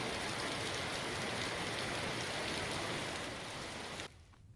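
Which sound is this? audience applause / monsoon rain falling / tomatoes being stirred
monsoon rain falling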